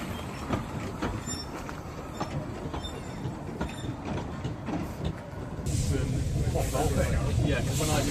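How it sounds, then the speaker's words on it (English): A train rumbles along the rails with a steady mechanical roar and faint wheel clatter, growing louder near the end, with voices talking over it. "Going to give up on the cars for a little bit and take the train."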